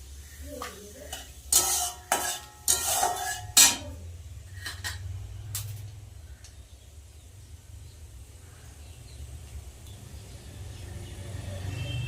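Black nigella seeds drop into hot oil in a pan, giving a few sharp crackles and clinks in quick bursts near the start, then a quiet low sizzle that carries on alone.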